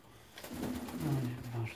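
Feral pigeons in a winter loft give low, rolling coos close by, a steady murmuring burst that swells midway through under faint background noise.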